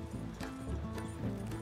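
Horse hooves clopping steadily as a team pulls a wagon along a trail in Red Dead Redemption 2, a continuous near rhythm over a low rumbling game soundscape.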